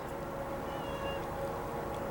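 A cat meows softly in an old barn or garage near a 1959 Buick Invicta 4-door sedan, a drawn-out faint call heard over steady low background noise.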